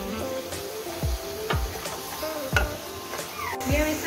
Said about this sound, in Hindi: ये प्याज लहसुन अदरक का, अभी थोड़ा सा जरा इसको भूनेंगे ताकि इसकी स्मेल खत्म हो जाए